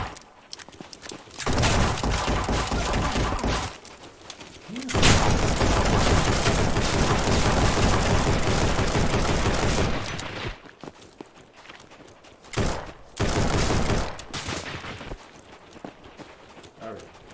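Bursts of rapid gunfire and explosions in the video game Tall Order come in loud, dense stretches with short quieter gaps between them.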